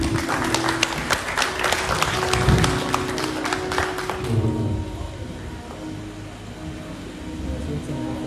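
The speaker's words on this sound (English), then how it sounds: "give her a round of applause" A crowd at a funeral gives a round of applause, with dense clapping for about four seconds that thins into scattered claps and murmuring voices.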